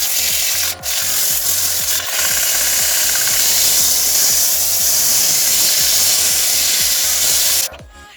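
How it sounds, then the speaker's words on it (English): Steady, loud abrasive rasping of sandpaper worked back and forth on wooden nunchucks, close up and continuous for several seconds before stopping abruptly. "Okay, now I just need to sand it."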